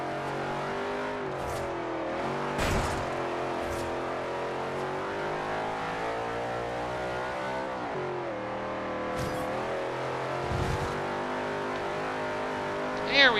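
Race car engine in Forza Horizon 2 held at high revs, steady and loud, with gear changes and a few sharp bursts, under intermittent talk by a man.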